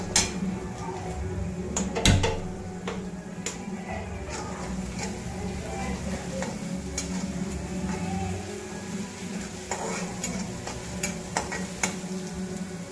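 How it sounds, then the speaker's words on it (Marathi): Green chillies fry quietly in hot oil with a pinch of salt while being cooked for khichdi. A soft, steady sizzle runs throughout, broken by occasional light ticks and clinks of a spoon against the pan. "मिरची ठसकते ना तेलात टाकल्यामुळे थोडंसं मीठ घालून घ्यायचं"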